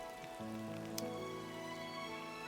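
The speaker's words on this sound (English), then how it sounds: "why it has to be raining right now?" Steady rain falling in the Disney Dreamlight Valley video game, a continuous even hiss of raindrops on surfaces under a soft musical tone, with one brief sharper patter near the middle.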